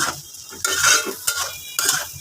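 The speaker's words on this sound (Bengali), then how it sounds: "এখন এটাকে একেবারে ভাজা ভাজা করে নিব" Shrimp fry with a pinch of turmeric in a pan, a soft sizzle broken by three sharp scraping stirs of a utensil, close and clear.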